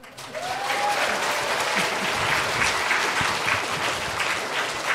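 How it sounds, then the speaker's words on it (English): A middle-school chapel crowd claps for students receiving grade-level awards, a thick sustained roar of applause filling the whole stretch at an even, loud level, with faint voices mixed underneath. "I'll let you clap now."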